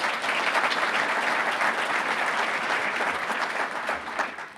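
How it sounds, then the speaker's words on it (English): A civic audience at a city's state of the city address claps for event sponsors, a dense, sustained round of applause holding loud and steady before easing slightly at the end. "Let's give them a nice round of applause"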